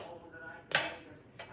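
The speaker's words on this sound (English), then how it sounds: "So let me get my veggies out of the oven." Metal tray of roasted yellow potatoes, carrots, Japanese yam and Napa cabbage pulled from an oven, giving a bright metallic clank and a lighter clink after it, close and brief.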